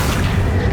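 An Accio summoning spell in the video game Hogwarts Legacy lands as a single short, deep boom, a low thud less than a second long.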